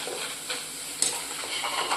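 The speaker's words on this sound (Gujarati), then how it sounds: "આલુ સ્ટીક તરવાની બાકી છે તે તરાઈ લઈએ." Aloo sticks fry in hot oil with a steady, fairly quiet sizzle and occasional bubbling crackles, close up, with no talking.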